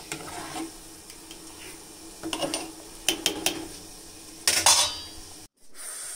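Metal lids set onto cooking pots over a gas stove, one over fried potatoes and bitter gourd, one over nearly boiled rice, heard as a few sharp clinks and clatters amid faint sizzling in a home kitchen, close and intermittent.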